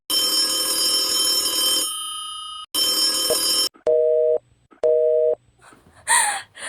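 Old-style telephone ringing on the line, two long loud ring bursts followed by shorter repeating buzzing rings, then a brief gasp-like sound at the end.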